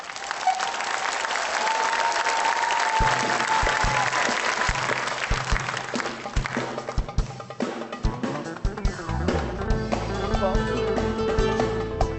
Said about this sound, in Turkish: imkansız karaoke alkışlarınızla başlıyor